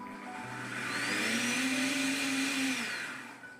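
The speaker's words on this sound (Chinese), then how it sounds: "直接放入破壁机里，再往里面加入150毫升的清水， 盖上盖子，按果蔬键给它打成汁" A high-speed blender purees celery leaves with 150 ml of water on its fruit-and-vegetable setting. The motor whine rises in pitch, holds loud and steady, then winds down, with no talking.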